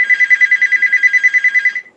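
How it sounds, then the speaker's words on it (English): A telephone bell rings in a rapid, steady trill for nearly two seconds, close and loud, then stops abruptly, with no voices. "You got a phone call?"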